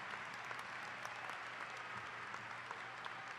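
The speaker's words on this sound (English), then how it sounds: "can we also give a firm round of applause for all the parents, family, community, and faculty" Steady applause from a graduation audience of parents, family and faculty at a 2018 East View High School ceremony, dense and even throughout with no break, sounding like a large crowd clapping at moderate distance.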